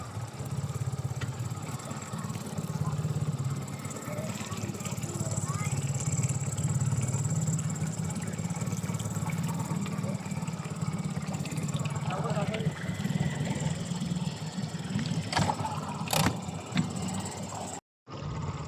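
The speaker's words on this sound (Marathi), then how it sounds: "मशीनचा आवाज येतोय का मशीन चालू आहे" A fishing boat engine drones steadily throughout, a continuous low rumble with some clatter and background noise, briefly cutting out near the end.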